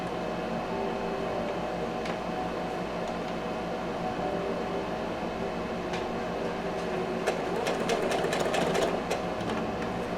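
A sewing machine stitches a seam on a handmade sun hat, running with a steady mechanical hum and a faint rapid needle clatter, with a few light clicks near the end.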